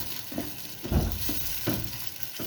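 Potatoes and meat for aloo gosht fry in hot oil while being stirred, giving a steady close sizzle broken by several scraping, clattering stirs, with no talk.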